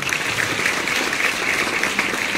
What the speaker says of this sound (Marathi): नसले तरी त्यांच्यासाठी टाळ्या वाजवा.